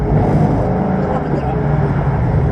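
A Ford Mustang drift car at Ferté-Gaucher gives a loud, steady engine roar close by, while people talk over it throughout.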